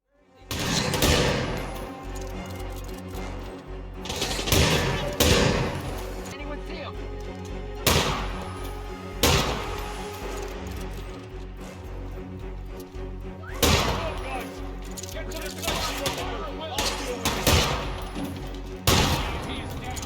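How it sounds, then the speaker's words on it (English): Gunfire in the video game Hitman 2, heavy booming shots and bursts of fire at irregular intervals over a constant dense backdrop, with talking over it. "the cops around Voles' house do carry more serious weapons"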